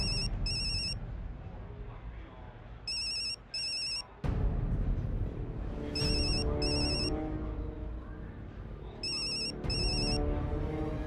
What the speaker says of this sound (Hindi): पिंकू को फोन करता रहे बेटा।